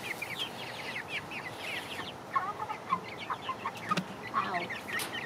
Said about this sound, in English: Those chickens, they so greedy.